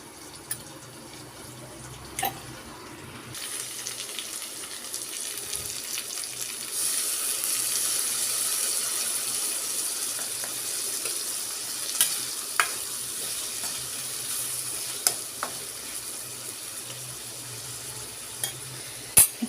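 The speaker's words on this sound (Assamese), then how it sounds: "এতিয়া এই মছলাৰ পেষ্টটো ভাজিখনত মই দি দিম।" A spice paste thinned with a little water fries in a pan for a Malabar spinach bhaji. A soft hiss swells into a steady sizzle midway, with scattered utensil clicks from stirring and no talking.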